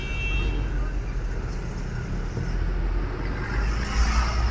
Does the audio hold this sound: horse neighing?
no